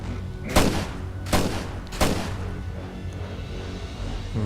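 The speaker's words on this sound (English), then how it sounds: "Oh, just waste an explosion on one zombie." Three heavy explosion blasts in the zombie video game State of Decay, evenly spaced and sharp, each decaying into rumble over a low background hum.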